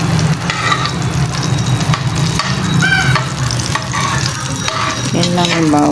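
Garlic frying in a pan for a budget sardine dish, a steady close sizzle broken by scraping stirs of a utensil against the pan, with no talking.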